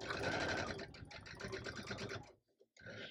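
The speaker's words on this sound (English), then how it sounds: "And I'm going to sew it 1/4 inch." A sewing machine stitches a quarter-inch seam on a quilt block, running close and steady, pausing briefly, then starting up again.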